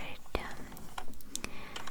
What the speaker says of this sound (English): And I also got this keyboard